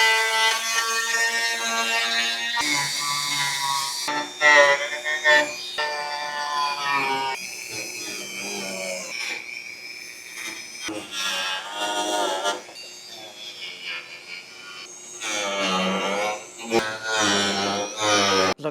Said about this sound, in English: So I'm gonna spend some time on it with the Dremel.